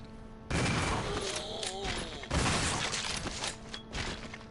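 Shotgun blasts in the survival-horror video game Resident Evil Zero, with two loud booming bursts a couple of seconds apart and dense crackling impacts filling the rest, close and prominent.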